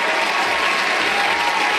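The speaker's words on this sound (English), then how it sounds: "Let's give a round of applause to our brother" Dense clapping from a group, steady and fairly loud throughout with no pauses, and no speech over it.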